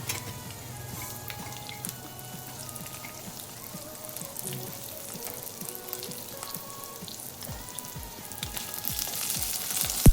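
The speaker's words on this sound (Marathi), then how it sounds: "छान भाजून घ्यायचं खरपूस." Whole spices for Kolhapuri misal masala (cumin, black cardamom, black pepper, coriander, sesame, cinnamon, coconut, ginger and garlic) roast and sizzle in a pan with a steady crackling fry that grows louder toward the end.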